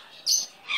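A pet bird gives short bright chirps, two quick high tweets close to the listener, with no talking over them.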